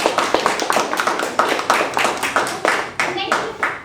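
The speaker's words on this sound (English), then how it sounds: "We want to clap for you again." A small audience at a dissertation defense claps for the defender, a close, even run of sharp hand claps in a steady rhythm that carries on for a few seconds.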